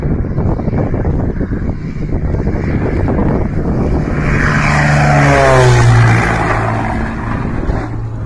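A plane in flight roars with loud, steady engine noise and wind rush, swelling and rising in pitch toward the middle before easing slightly, with no voices.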